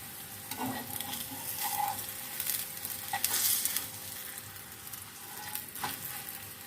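Radish paratha frying in ghee on a pan over medium heat, giving a steady gentle sizzle with occasional scraping and flipping noises, close and fairly quiet, with no voices.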